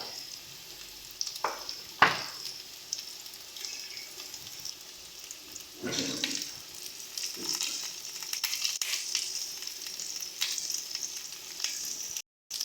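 Ground spice pastes of green chili and ginger fry in a pan for a prawn and pumpkin dish. A soft, steady sizzle runs throughout, with several sharper clatters and stirring scrapes spread across it.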